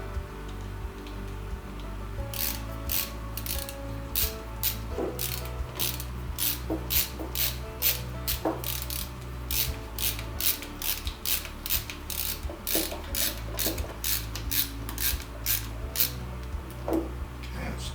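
A hand tool ratchets in quick, evenly spaced clicks while screws are snugged crossways during assembly of a Prusa MK4 3D printer, a close and continuous mechanical clicking over a low steady hum.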